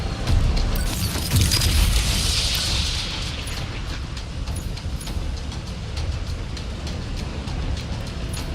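Enforcer double-barrel weapon firing in Ratchet & Clank: Rift Apart, a heavy boom at the start followed by a dense run of rapid blasts and crackling impacts amid game noise, with no speech.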